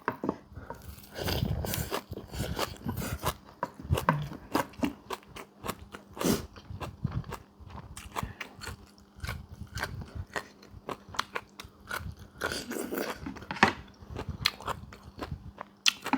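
Someone eats crispy fried mackerel with rice, with repeated close crunchy bites and chewing in an irregular rhythm, alone, with no talk.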